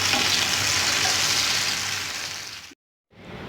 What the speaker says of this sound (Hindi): ये देखिए, इस तरह से हम सारे फ्राई कर लेंगे।